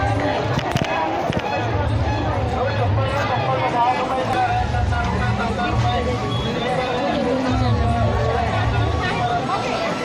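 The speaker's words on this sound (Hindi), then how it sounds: "भीड़ तो बहुत है बहुत ज़्यादा।" Crowd noise at a packed, busy fair: a continuous wash of distant chatter and footsteps, with a nearby person talking over the din for several seconds.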